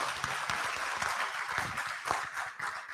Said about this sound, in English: Ladies and gentlemen, a big round of applause to our Honorable Minister of State.